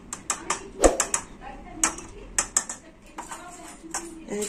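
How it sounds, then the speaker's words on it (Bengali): A spoon clinks and scrapes against a bowl in irregular bursts while a neem flower pakoda batter with cornflour is stirred together, with someone speaking between the clatter. "একটু ভালো করে মিশিয়ে নেব সবকিছু"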